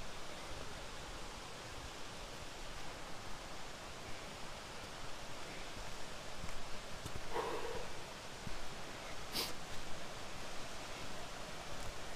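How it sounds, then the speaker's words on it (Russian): A mountain stream in the Carpathian Gorgany range rushes in a steady, broadband wash of water, continuous and fairly close, with a couple of brief faint knocks partway through. "ручей шумит."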